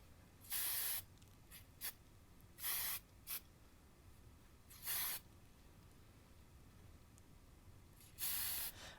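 Hairspray spritzed onto a seal model in four short, sharp aerosol bursts spaced a couple of seconds apart, close and hissy over a quiet room.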